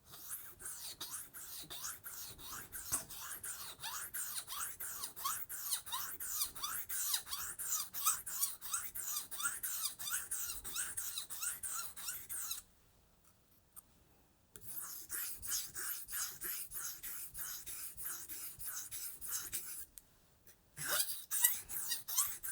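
A Global G-2 chef's knife is pushed hard across an Atoma diamond plate, giving a steady loud rasping scrape in rhythmic strokes close by, broken by two short pauses.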